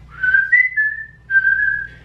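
A clear, loud melodic whistle from the Over the Garden Wall soundtrack plays alone in two sustained phrases with a short pause between them.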